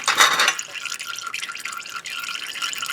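Excess engine oil poured out of a full sample jar at an oil change, a bright splashing trickle at the start settling into a steady thin stream and drip, close and alone.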